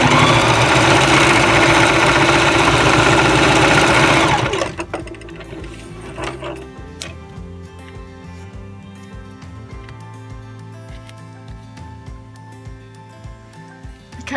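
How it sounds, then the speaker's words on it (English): A sewing machine stitches a belt loop for a fursuit tail, whirring loud and fast for about four seconds, then stopping and leaving quieter clicks and handling sounds. "Okay, so we've sewed that like that."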